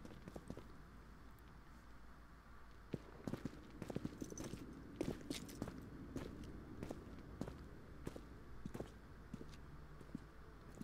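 Clip-clop hoofbeats of the horse Roach in The Witcher 2 Enhanced Edition, an irregular string of hooves on hard ground, fairly faint, with scattered footstep-like knocks and no talk.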